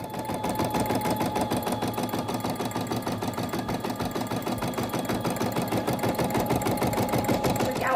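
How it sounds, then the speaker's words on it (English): A POOLIN EOCO5 embroidery machine stitches steadily up close with a fast, even mechanical clatter that runs unbroken throughout, and no voices are heard. "Just another excellent feature of this POOLIN embroidery machine."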